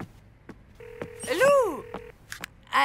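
Telephone dialing tones in a cartoon: a string of short beeps, then a longer steady tone with a swooping cartoon effect on top, followed by a few more beeps and brief voices.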